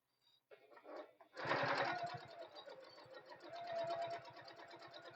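Domestic sewing machine stitching a tote bag, starting with a few short bursts and then running in a steady, fast, rhythmic stitching whir, close and loud, with no talking.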